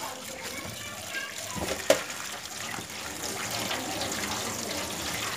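Food, for a prawn dish, is rinsed under running tap water, a soft continuous splash and trickle with a brief clatter, while children's voices are heard faintly in the background.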